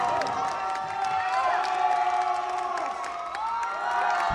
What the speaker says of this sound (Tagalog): Hiyawan ng mga Pinoy audience nang mapabagsak ng Filipino Jiu-Jitsu Kimberly Custodio ang kanyang Thai contender